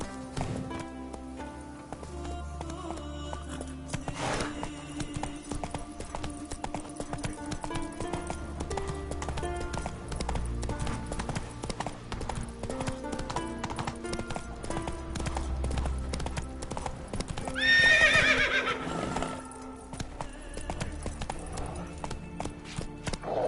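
Roach, Geralt's horse in The Witcher 3: Wild Hunt (Hearts of Stone DLC), trots with a steady clip-clop of hooves under game music, and a short louder burst stands out near the end.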